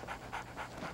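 A dog pants close by, four quick rhythmic breaths in about a second, soft and steady with no talk.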